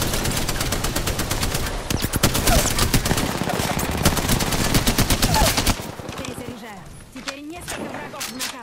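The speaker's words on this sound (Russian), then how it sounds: "Эй, по мне тут стреляют." Automatic gunfire in the Apex Legends battle royale, a loud, rapid stream of shots for about six seconds, then scattered sounds as it dies away, with game voice lines spoken over it.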